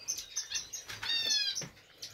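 A male Gouldian finch sings in a breeding setup, a quiet run of thin, high chirps and buzzy whistled phrases lasting about two seconds, close by and alone.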